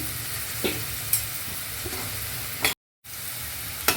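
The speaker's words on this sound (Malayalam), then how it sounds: "ഉള്ളി ഒന്ന് വഴന്ന് വരട്ടെ" Steady sizzling of onions sautéing in a pan, with occasional scrapes and stirring clicks and a brief silent break partway through.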